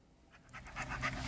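A small dog pants in quick, rising breaths, starting faint and growing louder over a little more than a second, with no talking.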